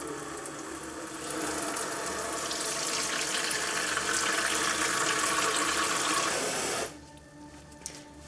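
A tap runs into a bucket, and the water's hiss swells to a steady rushing as it fills, then cuts off abruptly, leaving a quiet room with a faint knock.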